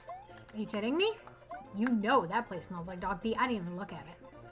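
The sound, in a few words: pet cat meowing in the background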